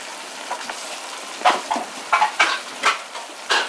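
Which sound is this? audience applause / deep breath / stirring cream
stirring cream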